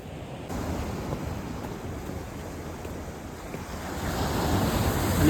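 Surf washing in at Maravanthe beach, a steady broad roar of breaking waves with wind buffeting the microphone, swelling louder toward the end.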